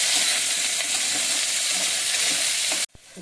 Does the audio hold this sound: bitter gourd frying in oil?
yes